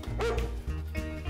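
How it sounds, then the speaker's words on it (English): Dogs bark and yip close by in a couple of quick bursts, loud and lively, with a short whimpering rise mixed in. "Dogs! Dogs!"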